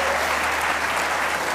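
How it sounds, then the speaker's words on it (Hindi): Brief applause in a cricket discussion studio: a short, steady rush of clapping at an even level, with no break over its length. "तालियां होनी चाहिए"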